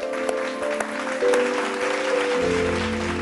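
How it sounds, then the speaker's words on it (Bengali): Studio audience clapping on a Bengali television game show, a dense burst of applause that swells and holds steady for a few seconds, loud and close, with background music tones underneath. "জোরে একটা হাততালি হয়ে যাক"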